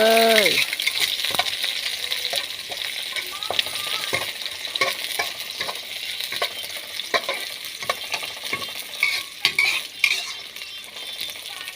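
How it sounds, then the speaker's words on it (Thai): Garlic sizzling in hot oil in a wok, frying until fragrant, with a spatula repeatedly scraping and clinking against the metal in irregular strokes. "เอากระเทียมลงไปเจียวเลยจ้า"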